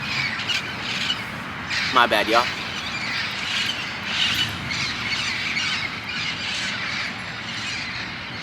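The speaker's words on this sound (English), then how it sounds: "hold on, there's some parrots passing by" Parrots flying past outdoors let out a short burst of shrill squawks midway through, heard under someone talking and steady background noise.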